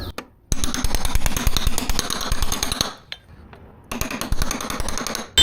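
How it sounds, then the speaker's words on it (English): A blending hammer with a rubber face raps rapidly on a car quarter panel to work out small dents, two loud bursts of fast metallic taps close up with a short pause between them. "You can use a blending hammer for this too"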